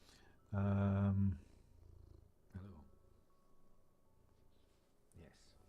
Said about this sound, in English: Purr into the mic then